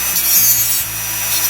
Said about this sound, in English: That's a number 2 setting on the Dremel